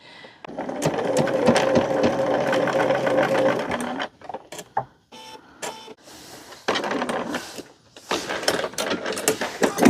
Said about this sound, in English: top stitch on this end as well